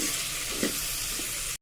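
Vegetables fry in oil with turmeric as they are stirred for a tamarind dal tempering, a steady loud sizzle with a faint scrape of stirring, cutting off abruptly.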